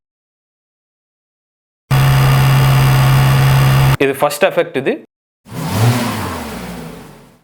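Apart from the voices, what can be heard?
AI-generated car engine sound effect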